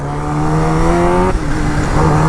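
A motorbike engine accelerates along a road, a loud, close, steady drone whose pitch climbs, briefly dips as the gear changes, then rises again.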